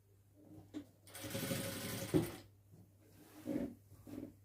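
A sewing machine stitching the lining of a churidar in short bursts, a close mechanical whirr starting and stopping several times, quiet and clear with no talk.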